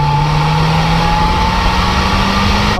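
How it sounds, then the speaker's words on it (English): A Honda Prelude with a VTEC engine under way, a steady engine hum with a slowly rising pitch over constant road and wind noise, sustained without pause. "The screaming VTEC engine is another standout of this car."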